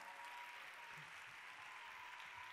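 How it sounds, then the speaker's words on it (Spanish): Applause from an audience at a science talk semifinal in Barcelona, a faint, steady wash of many hands clapping heard from a distance. "¿Lo recibimos con un fuerte aplauso?"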